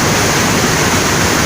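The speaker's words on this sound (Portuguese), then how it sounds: "rio tá bem cheio, hein? Cachoeira encheu pra caramba," A full waterfall swollen with river water roars in a loud, steady, unbroken rush of white noise.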